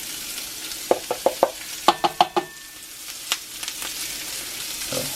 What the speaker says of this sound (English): Cook those jalapenos up.